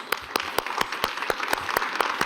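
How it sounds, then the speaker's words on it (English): A small group claps in a brief, steady burst of distinct, evenly spaced claps, fairly close. "Give them a big applause."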